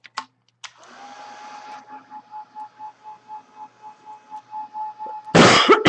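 A handheld hair dryer drying paint on an 8x10 burlap canvas, a steady whirring blow with a pulsing rhythm as it is swept back and forth, close and alone, ending in a loud rumble of handling.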